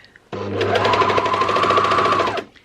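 A sewing machine runs in one close, loud burst of about two seconds, its rapid needle rhythm clearly audible as it sews a waistband onto trousers.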